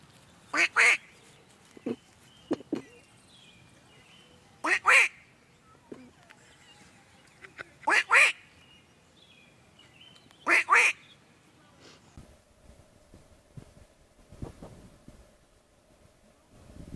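Four short bursts of duck quacking spaced a few seconds apart, with light wind noise in between and a low rumble near the end.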